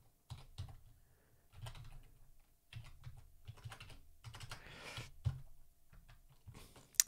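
A computer keyboard clicks under quick bursts of typing as a terminal command goes into a Linux system, the keystrokes close and fairly quiet, separated by short pauses, with no voice.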